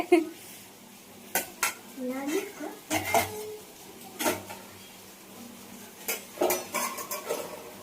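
Metal utensil scraping and clinking against a pan in a series of irregular stirring strokes, fairly close, with occasional quiet voice sounds.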